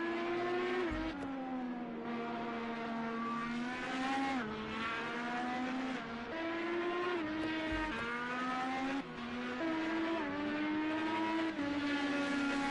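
Race car engines in an IndyCar racing video game at Le Mans drone continuously at high revs, with gear-shift dips and a steady loud roar throughout.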